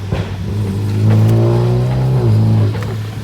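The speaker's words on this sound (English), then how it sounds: "It did sound like he put his car in sport mode" A car engine in sport mode revs loudly and close by during a snowstorm drive, its tone climbing, holding high, then dropping back.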